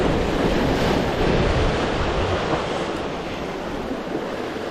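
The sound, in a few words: ocean waves and swell at low tide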